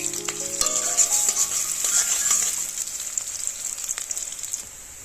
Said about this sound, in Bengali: আমি তেলের ভিতরে পেঁয়াজ কাঁচা লঙ্কাটা দিয়ে নেব